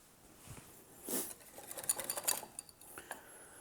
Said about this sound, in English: Crème Fraîche can be quite hard, so we just want to kind of whisk it through to make it more creamy